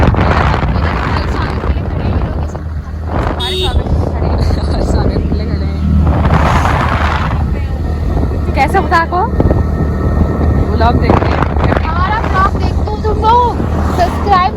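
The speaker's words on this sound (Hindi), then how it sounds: "हवा चल रही है यहाँ की" Strong wind buffets the microphone outdoors in a steady, loud roar that runs the whole time, with a droning engine-like rumble and voices speaking over it.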